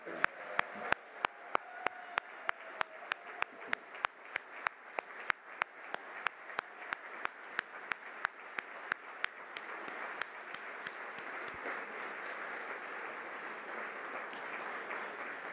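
Audience applause at the Golden Door Award Gala, a sustained wash of clapping from a large crowd that builds and thickens over about fifteen seconds, with sharp, regular clicks cutting through at a steady pace.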